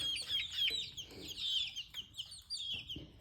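Barnyard mix chicks in a brooder peep in quick, high chirps, several overlapping calls close by against a quiet background.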